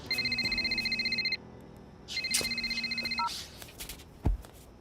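A mobile phone rings with an incoming call from mother, giving two bursts of bright electronic ringtone separated by a short pause, then a soft thump near the end.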